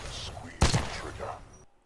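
A single sharp burst of gunfire hits targets in Titanfall 2, loud and close, then fades quickly into quiet background sound with faint talk around it.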